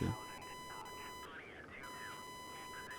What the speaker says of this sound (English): This is a very beepy game. Everything beeps constantly.